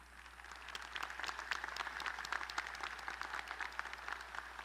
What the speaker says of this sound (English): Would those receiving master's degrees please stand and receive our applause?